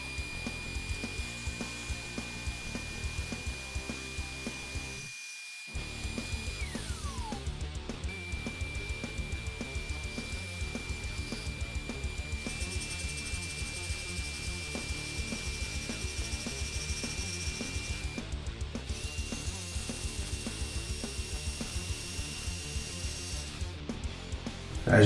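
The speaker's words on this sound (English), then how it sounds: "Here I'm cutting what I suppose you call the T part of the fence." A cheap table saw whines steadily while cutting scrap wood for its fence, a loud continuous motor drone with a brief pause partway through before the cut resumes.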